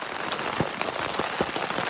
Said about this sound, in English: We're stuck here in the rain.